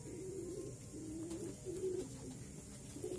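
A pet pigeon, black-headed with a white body, coos softly and repeatedly in low throaty bursts close by, a quiet indoor sound with no talk.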